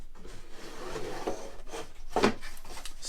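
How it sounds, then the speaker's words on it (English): A wooden drawer slides into a handmade wooden caddy with a soft, scraping rub, ending in a brief, firmer knock as it seats; quiet and close, with no talking. "I would put my drawer in,"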